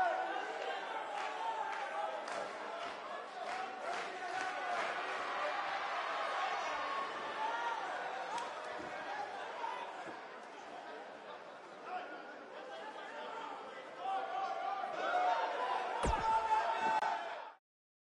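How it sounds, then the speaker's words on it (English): An animated crowd at a women's wrestling show in Orlando: continuous loud arena chatter and cheering with scattered slams and claps, swelling near the end, under a commentator's voice. "We've got an animated crowd here tonight, as we usually do when we're in Orlando."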